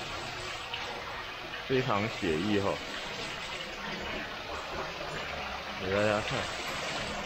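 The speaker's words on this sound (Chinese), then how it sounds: "这里呢也是有一个小的瀑布哦" A small indoor waterfall at Gardens by the Bay trickles and splashes steadily throughout, with a person speaking over it at moments.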